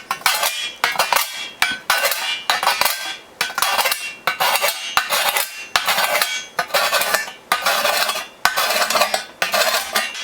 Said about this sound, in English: just trying to file it, get some of that junk off so it files a little more smoothly.